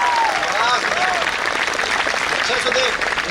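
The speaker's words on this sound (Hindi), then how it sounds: "एक बार मिलकर तालियां बजाओ जरा आगे से पीछे तक।" Crowd applause at a Hindi stand-up comedy and poetry show, dense and continuous clapping from the audience with some voices and cheers mixed in throughout.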